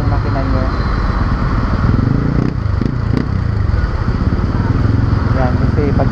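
A motorcycle engine kept idling and running steadily while the rider moves through floodwater in Zapote, Bacoor, with a continuous loud rumble and a person talking over it.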